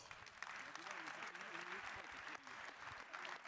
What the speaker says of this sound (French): On applaudit Thierry Breton